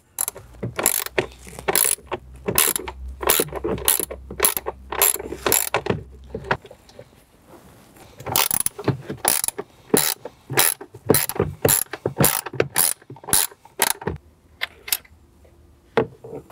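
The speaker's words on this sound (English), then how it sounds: "we're going to remove our two 7 millimeter screws from the side of the enclosure" A ratchet clicks rapidly and rhythmically, up close, in two long runs with a brief pause between, as two 7 mm screws come out of the side of a speaker enclosure in a Jeep Wrangler JK. No one speaks.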